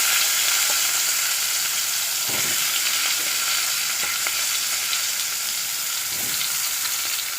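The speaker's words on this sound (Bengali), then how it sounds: "বেগুন আর আলু আমি এখন ফ্রাই করে নেব" Eggplant and potato pieces fry in hot oil seasoned with fenugreek seeds, giving a steady, loud, close sizzle with a few soft clinks of a utensil and no talking.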